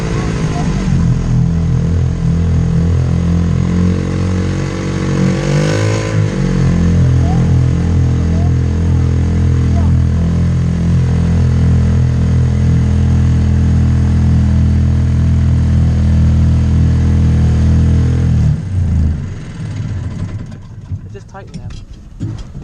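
Engine of a budget dune buggy running loud and close, a steady rough mid-pitched drone with a brief revving swell, then cutting down near the end; voices are faintly mixed in.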